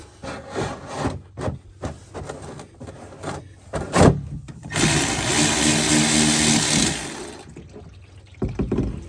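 Transmission fluid draining from a 2009 Honda Odyssey into a large 15-quart drain container, a steady rushing pour that starts after some scraping and clanking and runs for a few seconds before stopping.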